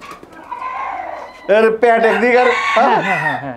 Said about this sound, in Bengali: এটা হচ্ছে পৃথিবীর সবচেয়ে ছোট জাতের মুরগি।